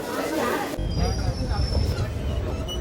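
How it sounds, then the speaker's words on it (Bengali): A train pulls into a station platform with a loud, steady rumble, a thin high wheel squeal running through it, heavy low clatter up close and a sharp shift in the noise after the first moment. "ট্রেন আসার পর ট্রেনে উঠে পড়লাম।"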